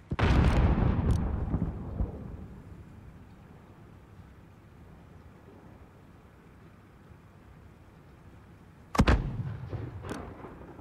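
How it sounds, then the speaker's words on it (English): Mortar rounds in Call of Duty: Modern Warfare land as heavy booming blasts: one big impact at the start rolls off over a couple of seconds, then a quiet stretch gives way to another loud explosion with debris near the end. "There's still a mortar out there"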